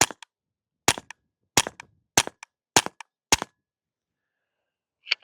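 Shots from a suppressed .22LR rifle fired into a dirt berm on a shooting range, six sharp close cracks spaced roughly half a second apart, each followed by a quick action click, with near silence between them.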